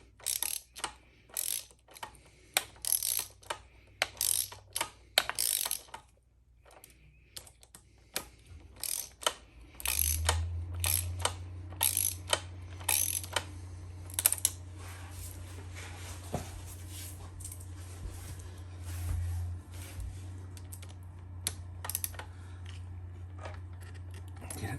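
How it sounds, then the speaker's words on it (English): A ratchet tightens bolts on a Honda Monkey motorcycle during a chain fix, giving bursts of quick clicking in the first several seconds, then quieter intermittent clicks over a low steady hum, close by. "go ahead and tighten them with your ratchet."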